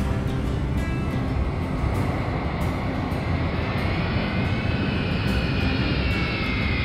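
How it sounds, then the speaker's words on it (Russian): A cartoon airplane lowers its landing gear and comes in to land on a runway near London, heard as a steady, loud engine roar with a rising whine that holds throughout, without speech. "Самолет выпустил шасси и приготовился к посадке."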